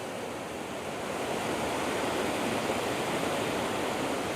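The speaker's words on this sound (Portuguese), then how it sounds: "O barulho da água" Steady, dense rush of water from waves or a waterfall at a scenic outdoor spot, a loud continuous broadband roar with no talk over it.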